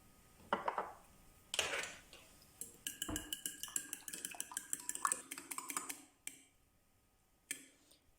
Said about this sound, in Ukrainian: Яйця трішки солимо та перчимо за смаком і збиваємо вилочкою до однорідності.